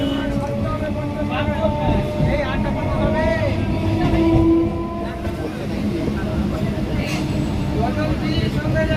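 A Goghat local train rolls from Howrah toward Haripal, its steady carriage rumble and rattle filling the whole stretch at close range, with faint voices mixed in beneath the running noise.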